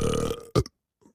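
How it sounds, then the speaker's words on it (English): A loud, throaty burp in a classroom scene, one drawn-out belch followed by two short, clipped bursts, then a faint trailing sound before silence. "did you just burp?"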